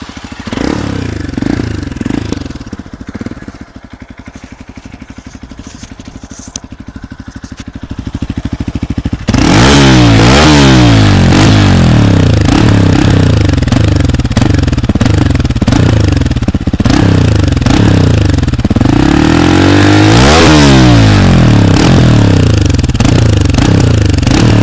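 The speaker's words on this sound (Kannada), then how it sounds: "ಇದ್ರದ್ದು ಹಿಂಗೆ ಒಂದ್ಸತಿ ಎಕ್ಸಾಸ್ಟ್ ನೋಟ್ ಕೇಳಿಸ್ತೀನಿ ಬನ್ನಿ" A Hero Xpulse Rally Pro motorcycle fitted with an Akrapovic exhaust idles with a lumpy burble, then is revved hard in repeated loud, throaty blips close to the listener, the rough note swelling and dropping over and over.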